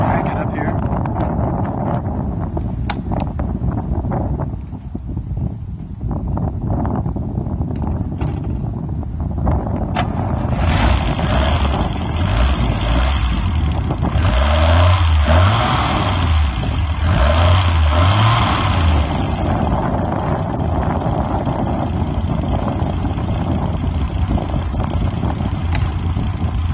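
Maserati Mistral six-cylinder engine with Lucas fuel injection cranking and revving: a steady loud mechanical drone with rising revs midway, wind buffeting the microphone throughout.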